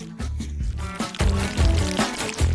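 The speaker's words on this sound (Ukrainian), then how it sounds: "Та де тепер ми наливаємо все в круглу форму" Thick liquid jelly mixture glugs and pours in uneven surges, close by, with a low churning quality as it fills a round mold.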